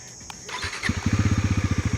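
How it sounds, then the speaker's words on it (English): Bajaj Pulsar NS 400Z motorcycle engine cranking and firing up through its exhaust, then settling into a loud, close, steady pulsing idle with no one talking. "Now let's check out what the exhaust of the new Pulsar 400Z sounds like."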